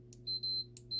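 A multimeter on continuity mode sounds two short, high-pitched electronic beeps while testing automotive Weather Pack connector wiring, each beep preceded by a faint click, in a quiet workshop.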